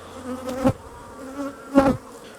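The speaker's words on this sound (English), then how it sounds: "There's a bee in there that won't leave." Honeybees buzzing around an open beehive during a hive inspection, a steady close drone with two louder swells as single bees pass near, no talking.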